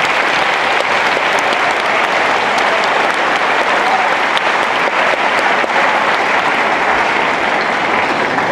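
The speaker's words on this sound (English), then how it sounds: "Let's give them a round of applause." Steady, full applause from a graduation audience honoring career education faculty and staff, dense clapping holding evenly for the whole stretch without a break.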